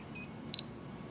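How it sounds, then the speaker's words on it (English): A Technaxx car alarm button remote gives a single short, faint electronic beep on activation, close by against quiet background hiss. "So the remote does beep to let you know that it is activated."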